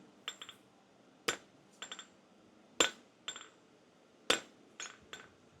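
A hammer strikes hot steel on an anvil while forging a four-sided taper for a steel calla lily, with sharp ringing blows in small irregular groups, each main strike followed by lighter rebounds.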